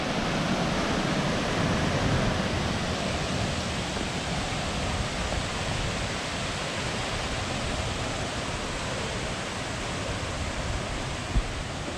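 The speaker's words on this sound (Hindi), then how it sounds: "और ये है वाटरफॉल वो" A waterfall roars in a steady, dense wash of rushing water, loud and unbroken for the whole stretch with no voices.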